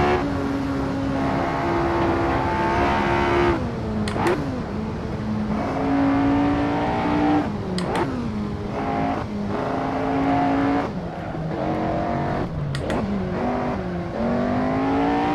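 A 1960s Formula One car's engine in the Assetto Corsa racing game, on the Nordschleife, a loud, sustained howl rising and falling through gear changes with brief lifts and downshift blips, close and constant throughout.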